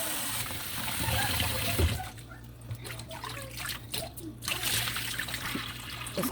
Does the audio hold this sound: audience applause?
no